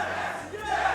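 A large crowd at a Super Smash Bros. tournament, Regen 2022, chanting in unison, a loud sustained roar of many voices filling the hall for a brief moment.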